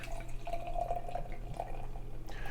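Bottled Bruery Grey Monday 2022 vintage beer pours into a glass, a faint liquid trickle and gurgle over low background hum, with no talk.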